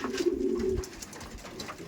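A hobby racer pigeon coos in a loft, a close, low cooing call followed by quieter rustles and soft bird sounds.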